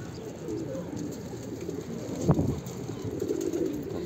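A pigeon coos softly, a low murmuring call rising over steady outdoor background noise, with one brief louder note in the middle.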